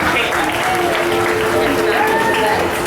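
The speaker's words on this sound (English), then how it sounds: "Now a big round of applause for Delilah and that front flip" A crowd applauds a dolphin's front flip at an outdoor marine show, steady clapping filling the whole stretch with an announcer's voice faintly audible beneath.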